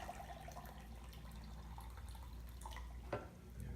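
Heated water poured into a container of sugar to make thyme simple syrup, a steady close liquid rush with faint drips, running throughout without talk.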